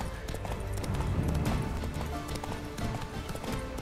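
Horse hooves galloping in The Witcher 3, a steady rapid clip-clop rhythm carrying on loudly throughout with no voice over it.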